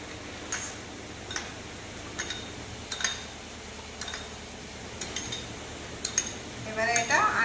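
Cornflour and water being stirred in a bowl with a spoon, giving a run of light, irregular clinks and taps against the sides, close and fairly quiet, with no talking.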